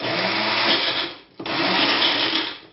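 A Magic Bullet blender whirs loudly as it blends potatoes, the motor cutting out briefly midway and then roaring back up at full speed.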